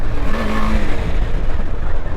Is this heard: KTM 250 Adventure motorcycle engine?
yes